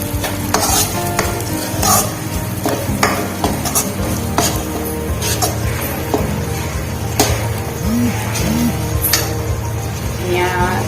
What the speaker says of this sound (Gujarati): આદુ મરચાંની પેસ્ટ નાખ્યા બાદ તેને મિક્સ કરી લઈએ.